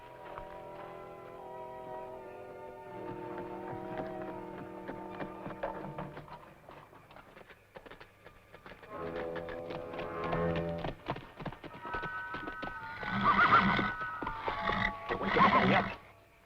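Horses whinny loudly twice toward the end, shrill and close, following a stretch of sustained tones and low rumbling.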